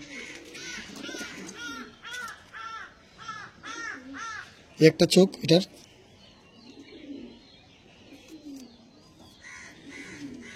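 Andhra pigeons coo in low, repeated throaty calls while someone talks over them nearby, and a loud burst of flapping or caw-like calls breaks in midway before the cooing quiets.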